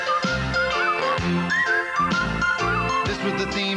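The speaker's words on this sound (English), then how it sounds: "We're almost to the part of where I start to whistle." Whistled melody from the Garry Shandling Show opening theme, a clear tune carried over backing music throughout.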